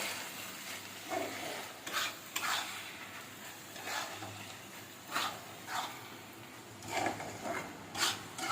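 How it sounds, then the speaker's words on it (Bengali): Grated coconut is stirred into a banana flower curry in a pan, producing faint scraping and rubbing strokes at irregular intervals over a soft, quiet sizzle. "এবার ভালো করে নাড়বো"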